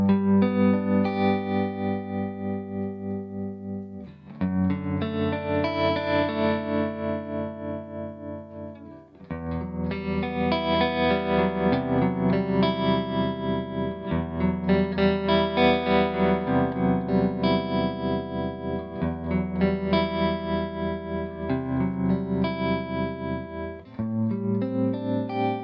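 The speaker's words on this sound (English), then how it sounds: "Reverb on. Oh, it's lovely. And the tremolo setting as well." Electric guitar played through a Hamstead Artist 20 RT combo amp with its reverb and tremolo engaged, sustained chords ringing out loud and steady, rippling with a wash of room-like echo and no voices.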